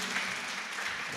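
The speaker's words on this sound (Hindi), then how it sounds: "एक बार जोरदार तालियां बजाइए इनके लिए" A dense wash of applause from a crowd, steady and fairly loud throughout, with no voices standing out.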